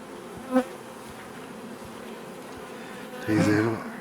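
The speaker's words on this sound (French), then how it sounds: "il y a des abeilles avec du pollen" Honeybees buzzing around an open beehive, a steady close drone with brief louder swells as bees pass near, under quiet French conversation.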